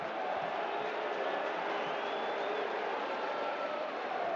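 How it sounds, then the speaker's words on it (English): A stadium crowd at a Dundee United versus AZ Alkmaar football match applauds a substitute coming on, a steady, distant wash of clapping and crowd noise. "you can hear the applause for Jamie McGrath, who'll be coming on"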